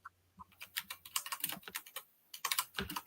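Keystrokes on a computer keyboard, typed in uneven bursts with a brief pause partway through, close and fairly quiet with no talking.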